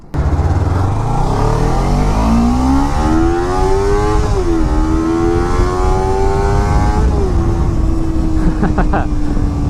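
A Kawasaki Ninja 300 motorcycle revs up through rising engine pitch, shifting and climbing again in steady loud acceleration, heard close from the rider's position with constant wind rumble.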